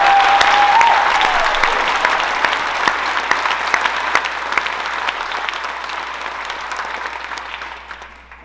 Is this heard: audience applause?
yes